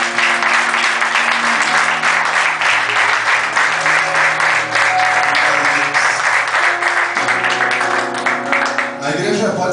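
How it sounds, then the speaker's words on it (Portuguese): A church congregation applauds the Lord in a loud, steady wash of clapping, carried over sustained keyboard chords, with voices mixed in and the applause thinning toward the end. "Vamos aplaudir o Senhor Jesus."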